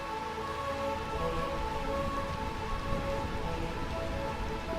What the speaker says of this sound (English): It's the realm of eternal rain.